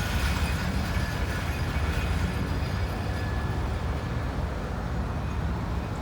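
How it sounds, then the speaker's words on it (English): A long CSX freight train of about 200 axles, over 3,000 feet, rolls past close by on a super-elevated curve, a loud, steady rumbling roar of wheels on rails that fills the whole stretch. "The train was a little too loud for me."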